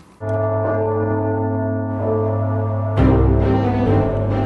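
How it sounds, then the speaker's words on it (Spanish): Church bells ring loudly with long sustained tolling tones, a second strike around the three-second mark adding a fresh clang over the lingering hum. "Hoy, Europa ya está acostumbrada al sagrado ruido de las campanas."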